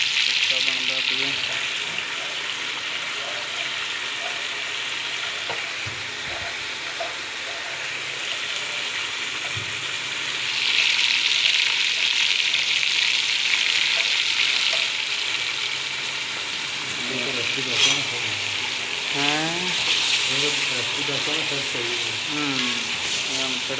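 Hot oil tadka tempering for a meat curry sizzles steadily throughout, swelling louder around the middle, with faint background voices and clatter.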